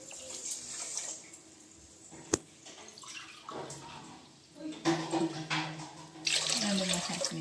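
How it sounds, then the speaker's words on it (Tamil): Water is poured from a glass onto sugar in a pan to make sugar syrup for gulab jamun, with a running, splashing pour in several bursts and a sharp clink partway through. "அப்புறம் 2 கிளாஸ் தண்ணி ஆட் பண்ணிக்கலாம்."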